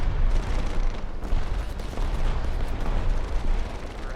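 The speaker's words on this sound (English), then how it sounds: "Oh wow, there are a lot of bullets." Dense, continuous gunfire from aircraft guns during a War Thunder arcade air battle, a loud rumbling barrage of rapid bursts with no pauses, no talking.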